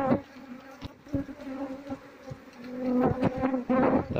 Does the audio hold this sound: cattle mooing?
no